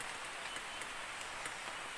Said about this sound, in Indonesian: Untung udah nyampe sini baru hujan